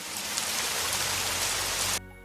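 Heavy rain falls in a dense, even hiss for about two seconds, then stops abruptly.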